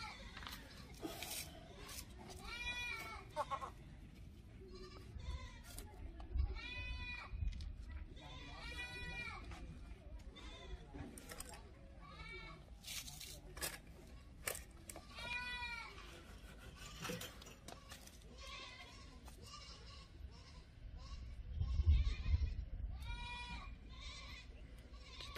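Goats on an African village farm bleat repeatedly in drawn-out wavering cries, calling out near and far, while someone talks over much of it and low rustling and movement fill the background.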